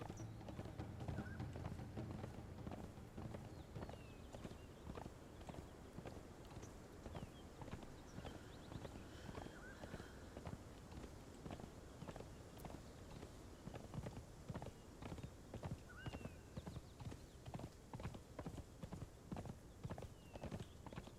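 A horse galloping in the video game Conan Exiles, its hooves striking in a steady, rapid rhythm throughout, quiet and unbroken by any voices.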